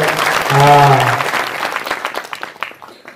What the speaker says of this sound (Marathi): जोरात टाळ्या वाजवते सगळे जोरात